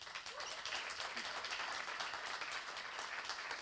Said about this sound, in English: please big applause to Dave.